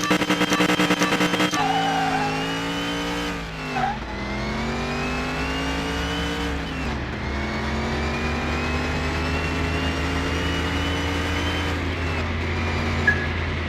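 Porsche Carrera engine revving hard through gear shifts in a quarter-mile race in Car Mechanic Simulator 2021, a loud, continuous rising whine that drops at each shift and climbs again, with no talk.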